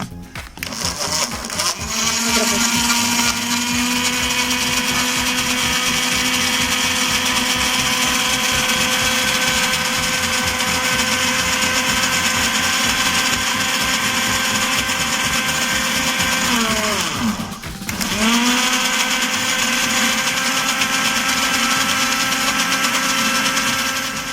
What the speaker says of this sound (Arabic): هنضربهم مع بعض في الخلاط.